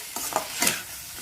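Vegetables stir-frying in a pan for a pasta chapati dish, with a steady soft sizzle and a few louder scraping stirs, close and alone with no talk.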